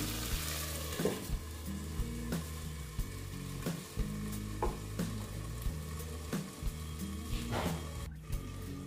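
Chicken curry sautéing in oil in a pan, a steady sizzle with regular scraping stirs roughly every second, close and fairly quiet, with no voices.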